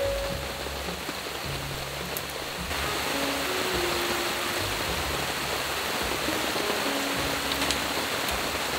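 Steady rain pours down on a tarp over a solo rainy-day campsite, a dense continuous hiss with a low patter of drops throughout and no talking.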